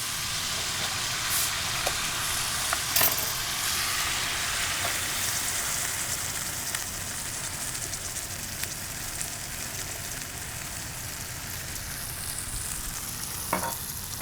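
Coca-Cola poured into a hot pan of onions, garlic and jalapeno with sesame oil: a loud, continuous, close sizzling hiss with occasional clatters and no talking.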